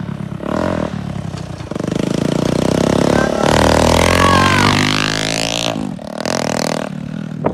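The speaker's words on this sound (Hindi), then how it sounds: "बहुत ही ज्यादा लाउड हो चुका है मेरी बाइक" A Bajaj Platina motorcycle fitted with a loud modified silencer revs hard while riding, its engine note rising and falling in throaty bursts with rattly exhaust crackle, close and loud throughout.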